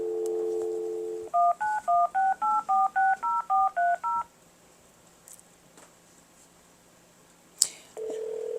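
A landline phone is dialed at a behind-the-scenes cooking business: a steady dial tone, then a quick regular run of about a dozen touch-tone keypress beeps, a quiet pause, a sharp click, and the tone returning.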